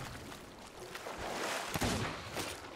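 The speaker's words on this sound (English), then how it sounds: "I think the boat just got hit again." Cannon blasts and impacts slamming into a wooden pirate ship in Sea of Thieves, a dense roar of booming hits with a sharp crack near the middle, loud and close, with a faint voice underneath.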